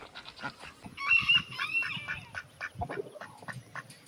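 Ducks in a backyard pen on an off-grid homestead quack repeatedly in a loose, overlapping chatter at moderate distance, with other poultry stirring nearby.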